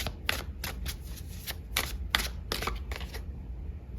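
Tarot cards being shuffled and pulled for a reading, a series of crisp riffling bursts in an uneven rhythm. The bursts are close, and there are faint gaps between them and no voices.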